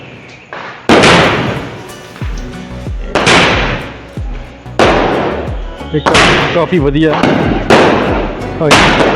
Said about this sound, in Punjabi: ਪਹਿਲਾਂ ਇੱਥੇ ਪਟਾਕਾ ਵੱਜਦਾ ਫਿਰ ਉੱਪਰ ਜਾ ਕੇ ਪਟਾਕਾ